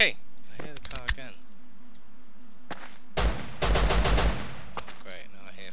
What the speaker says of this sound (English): Great, now I hear firing.